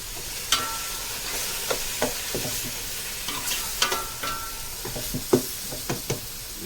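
Mutton biryani masala being stirred with curd in a pot: irregular scraping and knocking stir strokes over a soft, constant sizzle, close by, with no speech.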